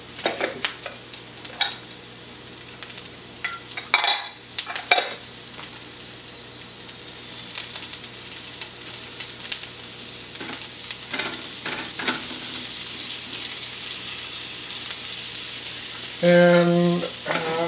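Mushrooms sautéing in butter and soy sauce in a pan on an electric range: a steady close sizzle with intermittent utensil scrapes and clacks, and a brief tonal beep near the end.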